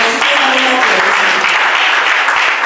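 A church congregation breaks into sustained applause during a worship service, steady dense clapping filling the space from start to finish with no voices standing out.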